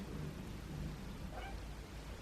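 A cat gives a brief meow in an indoor room set up as a cat nursery, faint and short against a steady background hiss.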